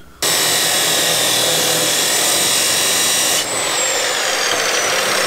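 A power saw cuts through metal tubing to start a 45-degree notch for a cantilever Integra suspension, a loud, steady grinding whine that starts abruptly and runs unbroken, with a brief dip in pitch partway through as the blade works the tube.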